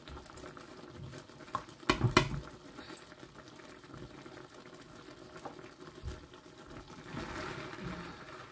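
Dry pasta tumbles into a pot of boiling water for carbonara, a quick rattling patter and splash near the start followed by soft bubbling and stirring, faint and close.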